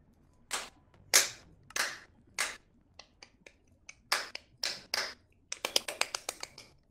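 Sparse, sharp claps in an irregular rhythm, a few isolated smacks followed by a quicker flurry, crisp and close like thin game-style applause from a video game.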